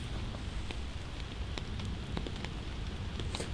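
Steady rain falls on an outdoor disc golf course during a tournament, a constant dense hiss with occasional sharper drop taps, even and fairly loud throughout with no one speaking.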